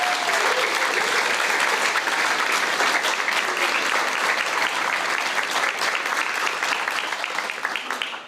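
A big round of applause for a guide-dog class graduation, dense and continuous clapping from a crowd, loud and even before easing slightly at the end.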